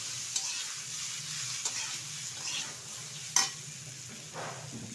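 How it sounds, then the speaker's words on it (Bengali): Yardlong beans and potato pieces stirred in a hot pan on a home stove: a soft, steady sizzle with a few light spatula scrapes and taps, fairly quiet and close, with no talking. "এখন দিয়ে দেবো বরবটি আলু, যেটা কেটে টুকরো করে ধুয়ে পরিষ্কার করে নিয়েছি। ভালোভাবে একটু নেড়ে চেড়ে নেব"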